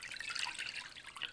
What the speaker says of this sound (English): And then we're going to take 2 cups or 500 milliliters of water and pour that over.